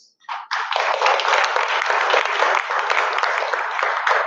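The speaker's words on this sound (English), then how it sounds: "Let's give one another a round of applause." Audience at a professional certificate presentation bursts into applause after a brief start, a dense, steady round of many hands clapping, fairly loud and close, continuing for several seconds.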